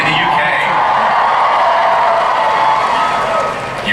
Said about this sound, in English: You're cheering a decade of your life.